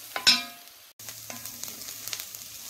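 Diced onion, celery and carrot hit melting butter in a pan with a sharp clatter, then settle into a soft sizzle with small stirring knocks, close by and without talk.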